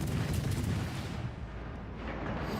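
A torpedo strikes the battleship Elizabeth in the naval game World of Warships: Legends, causing flooding. The hit comes through as a loud, sustained, rumbling roar that never breaks up into separate blasts, with no voices.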